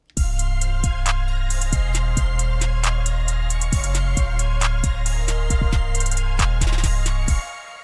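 Programmed drum beat with punchy kick, crisp hats, and quick snare fills answering the main groove, steady and loud for several seconds before cutting off.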